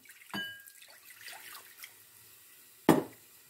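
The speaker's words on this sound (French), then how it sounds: "je vais récupérer avec un peu d'eau toutes les épices là qu'il y avait dans mon bol." Water is poured into a bowl to rinse out leftover spices for a pea tagine, heard as two short splashes: a soft one near the start and a louder, sharper one near the end, with quiet room sound between.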